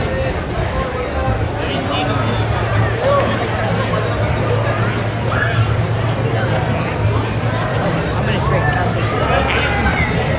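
Busy crowd in a small American town on a cold winter day, a dense, loud babble of many overlapping voices with scattered footsteps and movement close by.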